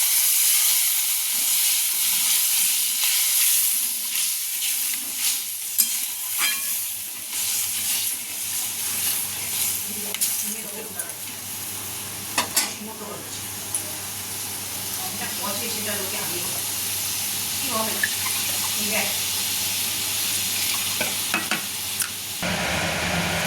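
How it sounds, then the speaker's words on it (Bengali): Water goes into well-fried masala in a pan for tel koi fish curry. A loud, continuous sizzle with bursts of steam and spatula clinks follows, and a voice talks over it in the middle. "মশলাটা ভালো ভাজা হয়ে গেছে, এবার জল দিয়ে দিচ্ছি।"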